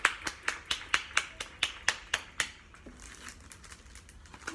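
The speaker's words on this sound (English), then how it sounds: "Let's clap for the roots." A pair of hands claps about ten times in an even, brisk rhythm, close and crisp, before falling quiet.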